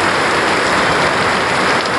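Steady heavy rain pours onto a main road outside a vegetable shop, a dense continuous hiss of drops with no pauses, close and loud throughout.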